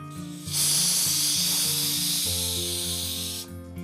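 Onion, cumin and red chilli for a dal tadka sizzle in hot oil, a loud, steady hiss lasting about three seconds over continuous background music.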